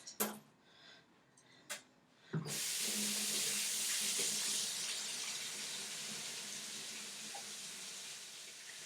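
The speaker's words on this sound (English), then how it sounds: "I'm going to put everything in the colander and just rinse the goo off." Tap water runs steadily over dishes in a colander, a close, continuous hissing splash that starts abruptly after a few quiet clinks and holds for several seconds.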